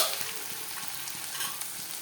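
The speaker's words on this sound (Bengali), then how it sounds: "আলুটা ভেজে নিলাম একটু, যেমন পটলটাও দিয়ে দিল, পটলটাও ভেজে নিলাম।" Potatoes and pointed gourd frying in a pan in a home kitchen give a steady close sizzle with light stirring scrapes throughout, no talk.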